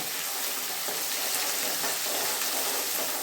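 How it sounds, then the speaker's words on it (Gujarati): Chopped onions fry in hot tempering oil, a dense, continuous sizzle that stays loud and even throughout, with no voices. "એને બરાબર ગોલ્ડન કલરની થાય ત્યાં સુધી આપણે ફ્રાય કરીએ"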